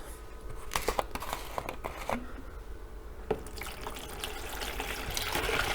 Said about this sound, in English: we'll just pour the brine in first